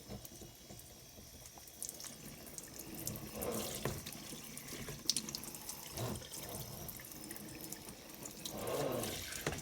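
Water sprays steadily from a tap or hose onto a household fan grill during cleaning, a continuous close hiss with some splashing surges and no talking.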